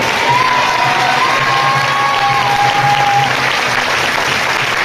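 Sustained, dense applause from a church congregation fills the room at a steady loud level, with some crowd noise and a few children's voices mixed in.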